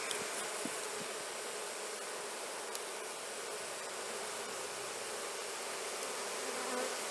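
Honeybees fan their wings at the entrance of a hive fitted with a newly added honey super, producing a dense, continuous buzzing drone close up with no talking.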